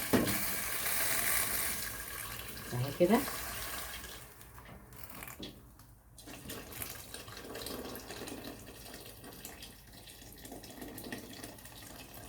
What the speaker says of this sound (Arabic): وقدامنا اللوبيا بتغلي يا جماعه اهي، هنضيف لها بقى الميه السخنه اهي.